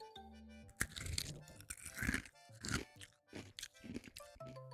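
Kohakuto, a Japanese crystal sugar candy, crunched and chewed close to the mouth, with several crisp bites and crackling breaks over a few seconds, no talking.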